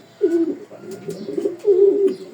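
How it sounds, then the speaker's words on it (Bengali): A White Gold racing pigeon coos in three soft, throaty bursts with brief gaps between, close by and quiet, no talk. "টপ 10-এর ভিতরে আছে আমার এই কবুতরটা"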